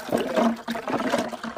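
Liquid poured into a juice mixture, a close, gurgling, splashing pour that runs continuously with a short dip partway through.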